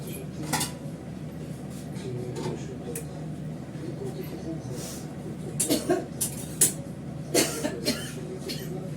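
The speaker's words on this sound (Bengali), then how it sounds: "এটা ঢাকা দিয়ে দেবো।" A lid clatters and clinks onto a cooking pot holding bay leaves, a few metallic knocks rising near the end of the clip, with a cough and some quiet voices in the kitchen.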